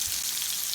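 Fish sizzles steadily as it fries in a pan, a close, even crackle with no break.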